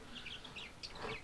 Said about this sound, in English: my bird is just constantly saying nasty, nasty bird in the background